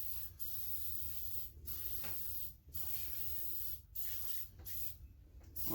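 Oil sprayed from a can onto a lawn mower deck, with quiet, close hissing spray bursts separated by brief pauses.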